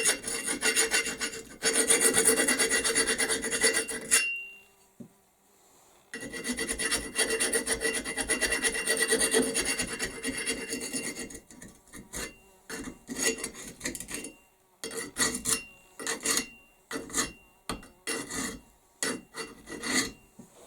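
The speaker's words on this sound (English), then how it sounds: "It's a pretty cheap little rasp, but you can use it for this rough stuff here" A cheap rasp shapes a wooden axe handle in long, loud rasping strokes that then give way to quicker, rhythmic short filing passes, close up and with no talk.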